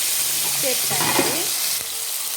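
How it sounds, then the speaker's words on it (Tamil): Green chilies, tomato and onion sizzle as they are sautéed in a pan, a steady close frying hiss with brief stirring scrapes partway through. "இதை வதக்கிக்கொள்ளுவோம்"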